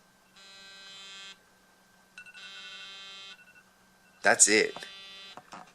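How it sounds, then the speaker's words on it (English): A quiet electronic alarm clock buzzes in two steady bursts of about a second each, separated by a short pause, followed by a brief spoken line from a nearby voice. "I set an alarm for 10:38, and you're gonna hear it here in just a second."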